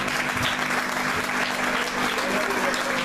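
A crowd applauds steadily, a dense wash of clapping that holds at an even level throughout, with a faint hum beneath.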